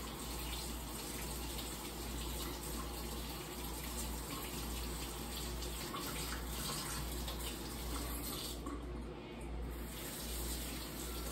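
Cold tap water runs steadily from a faucet while food is washed for chicken quesadillas, a continuous even splashing gush lasting the whole stretch with no voices.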